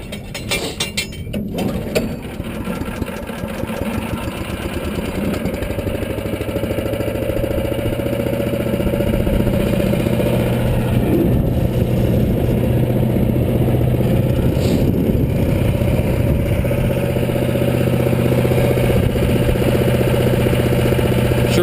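A 6.5 HP chipper shredder powered by a 212cc Predator engine starts up and settles into a loud, steady mechanical roar with a rattling, geared drone that holds close and constant, no voices over it.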